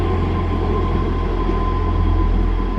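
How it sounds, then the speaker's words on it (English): A South Western train runs along the railway line near Romsey toward Eastleigh or Southampton, giving a loud, steady rumble and roar that holds throughout, close by, with no talking. "Southwest train down to either Eastleigh or Southampton."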